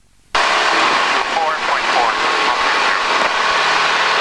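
Loud, steady drone of a Cessna 172M piston engine at full power for takeoff, starting abruptly and holding constant from inside the cockpit, with radio chatter faintly over the roar.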